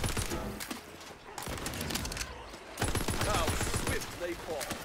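Shotgun fire in the looter-shooter game Tiny Tina's Wonderlands, a dense clatter of blasts and impacts running throughout, mixed with chaotic game effects and some talk.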